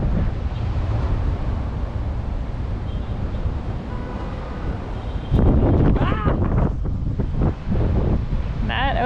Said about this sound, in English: It is so windy up here, I'm not sure how much of this will be audible